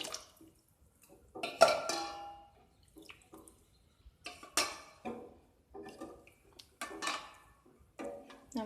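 Plastic baby feeding bottle scrubbed with a washing brush under water, giving scattered bursts of splashing, dripping and brushing with quiet gaps between, close and moderately loud.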